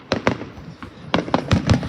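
Fireworks bursting in a quick run of sharp pops and cracks, two early and then a rapid cluster, moderately loud and fairly close.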